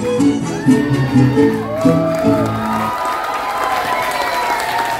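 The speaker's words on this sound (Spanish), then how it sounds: "Un fuerte aplauso." An audience applauds and cheers at a live event, loud sustained clapping with whoops and shouts running throughout, mixed with voices.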